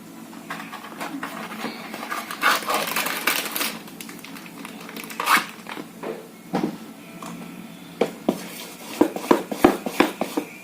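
A utensil clicks and taps against a bowl as a mixture is beaten with salt, quick clattering strokes that grow more rhythmic toward the end.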